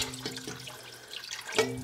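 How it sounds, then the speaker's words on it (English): Tap water running while tomato canning jars are rinsed, a close splashing flow with a couple of clinks of glass, no talk. "And let's rinse out these tomato jars."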